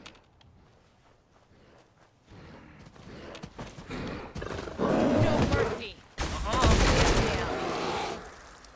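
Gunfire in the video game Fallout 4 breaks out in loud, dense bursts that swell midway and hold near constant toward the end, with a voice talking over the quieter start.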